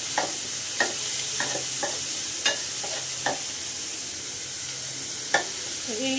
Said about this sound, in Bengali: এখন আমি এটা একটু বাদামি কালার আসা পর্যন্ত নাড়াচাড়া করে নেব